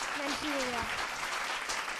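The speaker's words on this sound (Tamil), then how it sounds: "அதற்கு ஒரு கைத்தட்டு" Audience applause in a hall for a seventh-grade girl on stage at a Tamil speech contest, steady and fairly loud for two seconds, with a brief voice over the start.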